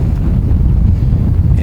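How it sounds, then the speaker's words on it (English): Strong wind gusts buffeting the microphone on a lake during a cold Florida day, a loud continuous low roar with rumbling, uneven bursts. "man, it's windy"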